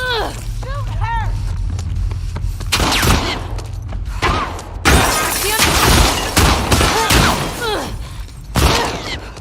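Gunfire in The Last of Us Part II, loud repeated shots and crashing impacts in several bursts, mixed with shouting voices and chirping sounds early on.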